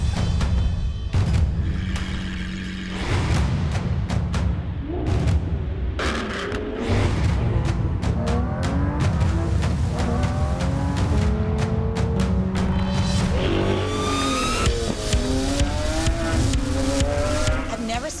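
A Lamborghini Aventador SVJ engine roars and revs through gear changes, with rising and falling pitch while people talk over it.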